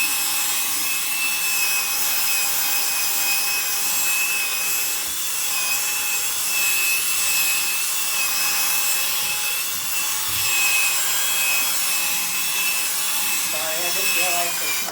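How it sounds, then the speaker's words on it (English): A Tack Life drill spinning a cleaning brush across a rug: a continuous high motor whine over a steady scrubbing, rasping texture that runs unbroken and fairly close throughout. "You can see I'm using my Tack Life drill."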